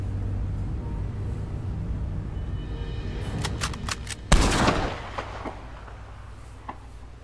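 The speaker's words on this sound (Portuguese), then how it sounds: "Alguns tiros estão pegando, mas o animal nem demonstra dor." Several gunshots fired at a shark near a boat off Guarma island in the video game Red Dead Redemption 2: a few sharp cracks build to one loud, close blast, followed by fainter echoing shots over a low rumbling ambience.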